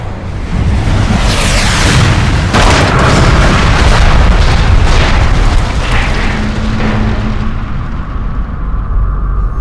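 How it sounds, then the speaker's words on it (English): Missiles strike and explode on impact in a loud, sustained barrage of booms and rumbling blasts, with a sharp burst midway and debris roar fading into a low hum at the end. "I'm tracking multiple missiles homing in on your coordinates."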